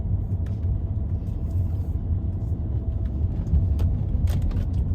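A 2008 Audi A3 8P is driven on a test drive, heard from inside as a steady, low engine and road rumble with small clicks and bumps.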